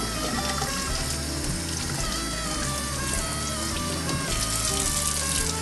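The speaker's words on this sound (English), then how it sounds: "you rinse your hands, going from the fingertips to the elbows" Tap water runs steadily into a sink as hands are rinsed from fingertips to elbows during a veterinary clinical scrub, a constant close splashing rush with no pauses.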